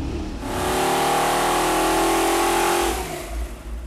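A Mondello-built 455 Oldsmobile big block V8 revs hard on a dyno, rising into a loud sustained roar that holds near three seconds and then drops back toward idle.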